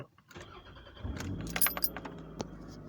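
A 1998 Toyota Camry 2.2 engine starts and settles into a steady running rumble, with keys jangling near the start.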